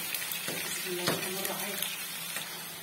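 Chicken liver going into hot oil in a home kitchen, giving a soft steady sizzle and crackle with a few faint clinks. Someone talks over it.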